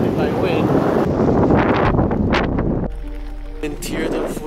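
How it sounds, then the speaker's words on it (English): Strong wind buffets the microphone in Tierra del Fuego while a cyclist rides south, a loud, close, gusting roar that eases partway through, with a voice speaking over it. "I'm just getting pounded by wind."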